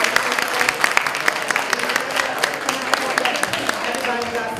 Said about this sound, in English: So everybody, can we get a round of applause?